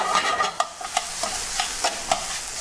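Broccoli sautéing in a pan with a gentle sizzle, punctuated by a series of clicking, scraping stirs of a utensil against the pan at an irregular pace, close by and moderately loud.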